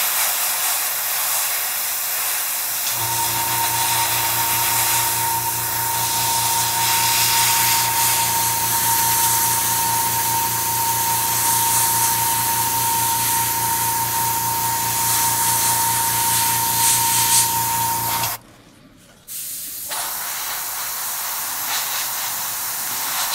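An airbrush or spray gun hisses steadily while paint goes onto the panels of a Sturmgeschütz III Ausf B scale model, a long continuous spray with a faint compressor hum, cut by one brief pause near the end.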